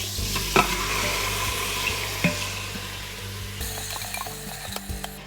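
Chunks of beef browning in a hot pot for a carnivore-style beef and lamb stew, giving a steady close sizzle and frying hiss throughout, with a few soft clicks of stirring.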